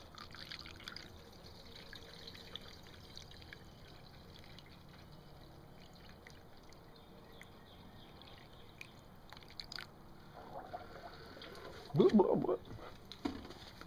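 Warm water is poured into the cooling system of a car being refilled after heater core hose work, a faint trickle and drip at first, then a louder gurgling burst of filling near the end.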